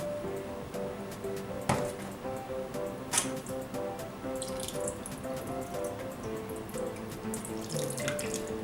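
Water from boiled tomatoes drains through a strainer into a kitchen sink, a continuous splashing trickle with a couple of sharp knocks and clatters, close and steady throughout.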